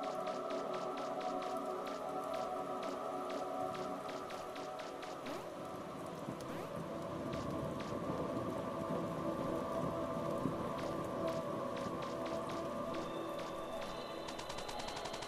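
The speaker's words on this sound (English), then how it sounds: "I need to get out of the rain." Steady rain falls in a video game, a continuous soft hiss and patter under a layered tonal music bed, with sharp clicky ticks scattered throughout.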